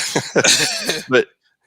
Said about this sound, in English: you made me cough my head off